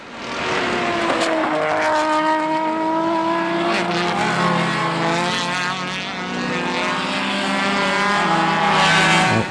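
E-Production race cars at the SCCA June Sprints roar past one after another, their engines loud and close, with rising and falling engine tones and sweeping pitch shifts as they pass.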